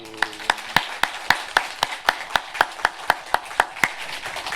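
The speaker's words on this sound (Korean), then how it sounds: "말씀하신 주님께 우리 다시 한번 감사의 박수." A church congregation claps in unison, a steady beat of sharp, crisp claps at roughly three per second, continuing evenly with no talking over it.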